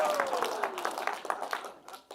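Conference audience at a web developers' event applauding, a soft patter of scattered clapping that thins out toward the end, moderately distant, with a faint voice and a brief whoop underneath.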